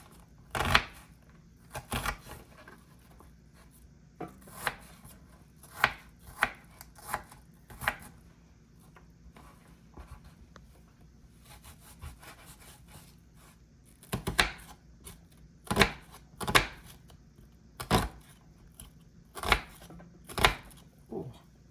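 A knife chops through an onion on a board in a quick breakfast kitchen, sharp close knocks in bursts with a quiet gap midway, then faster regular strikes resuming toward the end.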